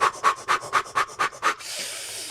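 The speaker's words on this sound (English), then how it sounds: "Back to cave breathing exercise." A person does a breathing exercise: seven quick, rhythmic, panting breaths close to the microphone, then one long, airy, hissing exhale.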